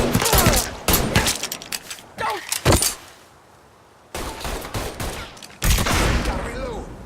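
Mafia III gunfire in a shootout: loud, close bursts of rapid shots with short quiet gaps between volleys, a voice briefly heard among them.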